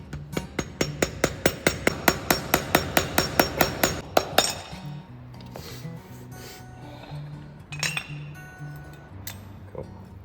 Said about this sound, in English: get a flathead and a piece of rag or cloth and gently hammer all around it